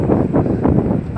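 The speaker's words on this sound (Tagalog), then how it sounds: "mahangin na siya" Steady outdoor wind buffets the microphone in a dense, low rumbling rush with gusty swells, continuous and loud across the whole moment.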